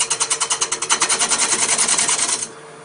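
A homemade HSS rod spindle gouge cutting spinning wood on a lathe, giving a fast, pulsing, buzzy shaving sound that holds steady at close range for a couple of seconds, then stops abruptly.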